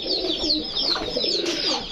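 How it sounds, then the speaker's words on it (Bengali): Pigeons coo close by in a continuous, throaty murmur, mixed with bright repeated chirps from other birds, as nine pigeons are packed for delivery. "এখানে টোটাল নয় পিস কবুতর আছে আর এই নয় পিস কবুতর যাবে হচ্ছে ফেনিতে"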